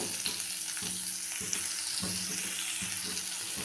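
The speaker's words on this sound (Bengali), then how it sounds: "পেঁয়াজটা একটু ভেজে নেব" Chopped onion frying in butter in a pan for chicken pasta, a steady close sizzle with scraping stirs repeating every second or so, with no voices.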